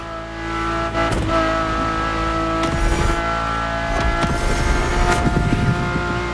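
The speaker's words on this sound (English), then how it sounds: "And the car's voice sounds even better from inside." Ferrari engine heard from the cockpit in The Crew Motorfest racing game, a loud sustained drone with steady harmonic tones and brief sharp surges as revs shift, no voices.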